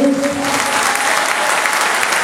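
An audience applauds a team at a charity event in Algrange, a loud, dense, continuous burst of clapping from many hands, with a voice briefly audible at the start.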